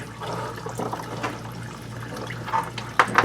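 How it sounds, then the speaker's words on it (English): Transmission fluid from a 2022 Ford F-350 with a 10R140 transmission drains into a drain pan as a steady trickling, splashing liquid flow, with a few brighter splatters toward the end, close and unaccompanied by talk. "We'll go ahead and let it drain in the pan"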